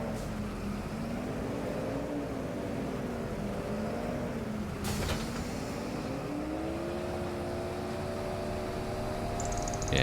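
Tractor engine in the Farming Simulator 25 video game, a steady mechanical drone whose pitch rises and dips gently as the revs change, heard alone and evenly throughout.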